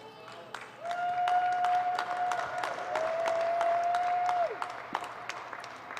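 Spectators cheer and clap at a women's UCI cycling hour record attempt, a few seconds of lively crowd applause rising over a steady electronic tone, then fading back to isolated claps.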